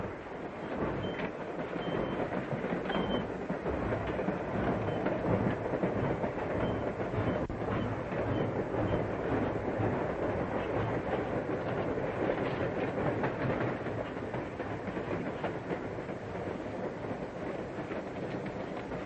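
A 1940s passenger train carriage rumbles steadily with a continuous broadband roar and faint wheel clatter, holding an even loudness throughout with no speech.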